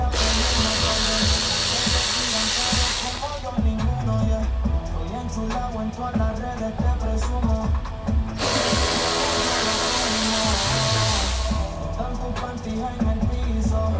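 A power drill removes the battery screws on a Kawasaki KFX 400 ATV, giving two separate high whirring bursts of a few seconds each with quieter handling clatter and knocks between them.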